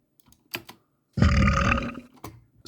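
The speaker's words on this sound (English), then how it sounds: "I think this one is also a burp." A burp sample pitch-shifted downward, sounding as one low, loud, sustained belch of about a second, with a few short clicks and thumps before and after it.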